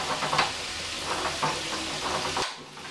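Garlic cooks in a pan of oil, a steady close sizzle and crackle with light stirring scrapes that stops abruptly near the end, no talk over it.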